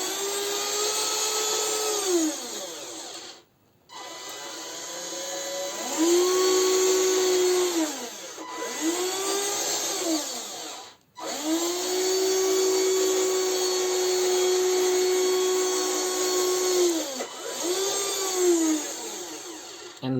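The electric motor and two-speed gearbox of a 1/14 scale 3D printed RC PayStar 5000 truck whine in low gear, rising and falling in pitch as it accelerates and slows in repeated bursts, close and steady, with brief drops between runs.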